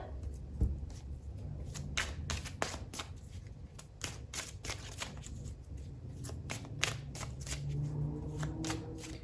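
A deck of tarot cards being shuffled close by, a quick run of crisp riffling flutters and soft taps that go on with no talk.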